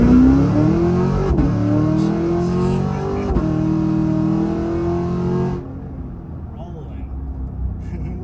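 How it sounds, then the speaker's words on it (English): A Cadillac Escalade V with bolt-on upgrades rumbles with a deep, loud engine burble while driving. The tone rises steadily, then the sound drops quieter near the end. "Look at that burble. I mean, it is rolling."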